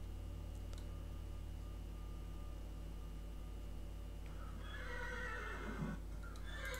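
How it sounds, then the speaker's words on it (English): A black horse in the Minecraft Mo Creatures mod lets out a loud, clear whinny near the end, over a quiet constant game hum with a few faint clicks before it. "As you can see, I have my black horse"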